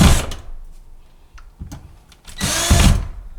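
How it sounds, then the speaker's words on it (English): Power drill driving a flat head screw in an electrical outlet, with a short burst, a few brief clicks and taps, then a louder whirring run of about half a second, close and alone. "So I reach for the drill, but then I have a lot of issues with it slipping off and lining up."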